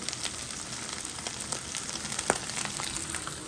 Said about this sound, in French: le riz est en train de cuire tranquillement